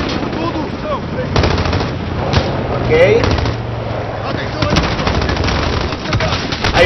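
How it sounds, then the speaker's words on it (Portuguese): Enemy gunfire in Call of Duty Modern Warfare comes as bursts of rapid automatic shots mixed with single cracks, with battlefield noise throughout and someone speaking briefly over it. "Me siguen disparando de aquí."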